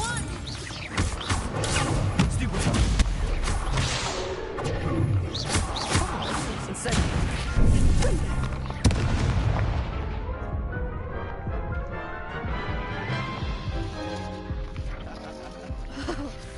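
An Incendio fire spell roars through a Harry Potter video game, a loud, sustained broadband rush with crackling bursts that gradually thins out toward the end.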